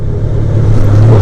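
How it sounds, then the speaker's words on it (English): A Honda Goldwing motorcycle engine idles steadily nearby, a low continuous hum with a slight rise in level toward the end, no voices over it. "she does not know that the bike is already running"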